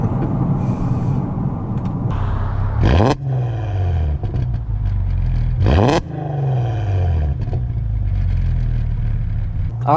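A loud Mk5 R car accelerates hard through a tunnel, its engine roaring and climbing in pitch through repeated gear pulls with sharp shift breaks, the sound booming and echoing off the tunnel walls.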